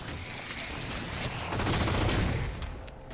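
Gunfire in the Halo 4 video game: dense, rapid automatic shots rattling steadily for several seconds, loud and close, growing heavier midway with no talking over it.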